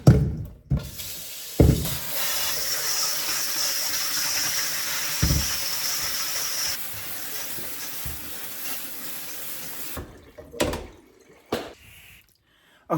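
Potatoes rinsed under a running kitchen tap in a sink, a steady close hiss of flowing water lasting several seconds, broken by a few clunks and knocks as they are handled.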